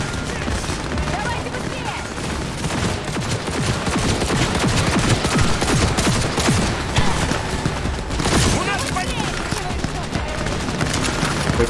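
Sustained automatic gunfire in a Cyberpunk 2077 shootout, loud continuous rattling bursts with crashes, with voices shouting beneath the shots.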